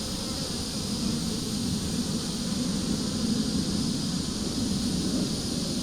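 Honeybees hum around the entrance of a hive as foragers bring in pollen, making a continuous, even buzzing drone close by with no pauses and no voices.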